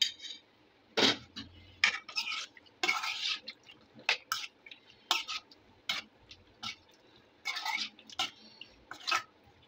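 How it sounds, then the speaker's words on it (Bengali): Buttermilk being mixed into a soy sauce marinade for chicken fingers, a close run of wet squelches and clicks in an uneven rhythm, each burst short and separated by brief quiet gaps. "আর এখানে 2 টেবিল স্পুন বাটার মিল্ক দিয়ে দিচ্ছি।"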